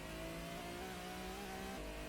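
A tuned car's engine in Gran Turismo hums at a steady high rev, a constant mid-pitched drone with no pauses and no voices.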